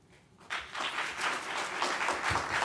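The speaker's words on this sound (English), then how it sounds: "I'd ask everybody to refrain from clapping" Audience applause at a public school board meeting, a steady wash of clapping from many people in a hall, moderately loud and sustained with no talking over it.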